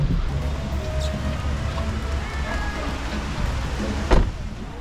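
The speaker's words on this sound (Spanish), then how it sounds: "¡Qué aguacero!" Heavy tropical downpour on a narrow road in Sosúa, Dominican Republic, a steady dense hiss of rain heard from inside a vehicle, with a low engine rumble underneath and one brief louder knock near the end.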